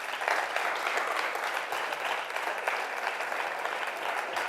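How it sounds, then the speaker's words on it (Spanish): Sustained applause from a school audience at the close of a talk about the Extremadura Parliament, a dense, steady wash of clapping filling the whole stretch at an even level. "Yo creo que se merecen un fuerte aplauso"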